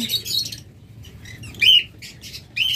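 Split blue lovebirds give sharp, high chirps in short bursts, with quick wing flaps in between. The calls are close and come unevenly, with no voices.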